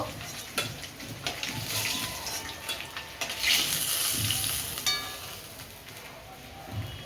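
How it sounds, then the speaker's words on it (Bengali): Fish frying in hot oil, a steady sizzle and crackle with sharper spits and pops coming and going, close and moderately loud. "সব মাছ ভেজে নিলাম, এবার তুলে নেব।"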